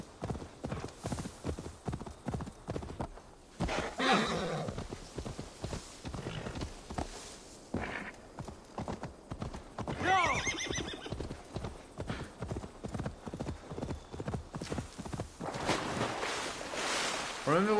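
Horse riding in Assassin's Creed Valhalla: steady clip-clopping hooves at a brisk rhythm, broken by several loud whinnies, with water sloshing and someone talking over parts.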